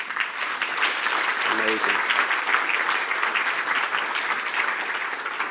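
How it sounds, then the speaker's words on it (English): Audience applause fills a business-talk venue, a dense, steady clapping that holds loud from start to end while a voice speaks briefly underneath. "give my team a big hand clap."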